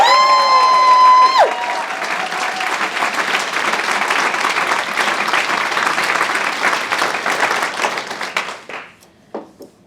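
A conference audience at a charity impact event applauds and cheers loudly for learners, a dense sustained wall of clapping that follows a brief sung or whistled tone, then thins into scattered claps and fades near the end.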